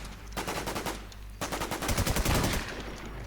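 Infestation Sea video game gunfire: rapid automatic bursts crackle in quick rhythmic volleys, pausing briefly before a denser, louder stretch of shots, with no talking.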